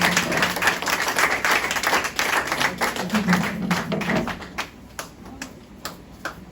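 A church congregation claps loudly at a Prophetic Sunday Service, dense rapid clapping from many hands that thins into scattered, separate claps toward the end.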